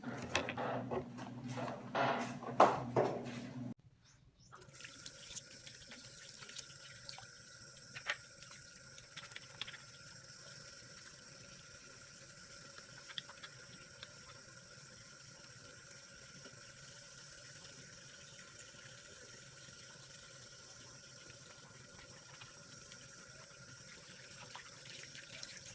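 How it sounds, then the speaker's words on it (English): Tap water runs into a sink for hand washing, starting with a louder splashing burst for a few seconds and then settling into a quieter, steady flow that carries on for a long time without voices. "So now let's perform hand washing."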